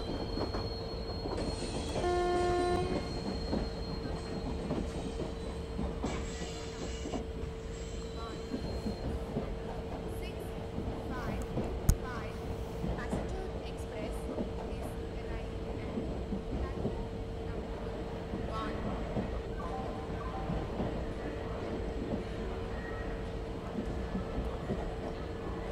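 Karnataka Express, the 12628 Bangalore–New Delhi service, rolls along steadily after overtaking another express near Kota Junction, with a continuous loud rumble and low hum, a few brief wheel squeals early on and faint voices in the background.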